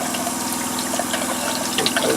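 Cold water runs steadily from a sink tap in a camper being de-winterized, a continuous close hiss and splash with no breaks.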